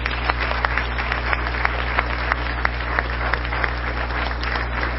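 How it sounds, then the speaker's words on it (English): An audience at a school board meeting applauds a group of students, giving steady, moderately loud clapping from many hands that continues for the whole stretch with a few sharper individual claps standing out. "A round of applause for them"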